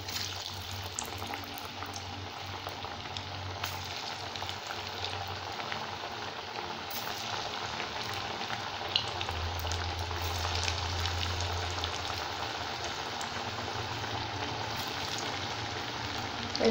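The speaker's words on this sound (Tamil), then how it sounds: "இதே மாதிரி எல்லா வடையும் போட்டு பொரிச்சு எடுத்துக்கலாம்" Banana flower vadas deep-frying in hot oil in a pan give a continuous, even bubbling sizzle with faint crackles, steady and moderately quiet with no voices.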